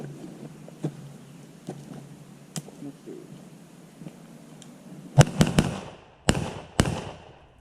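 Panzer AK12 blaster fired outdoors near a roadside: faint ticks and clicks at first, then several sharp, loud cracking bursts in quick succession toward the end.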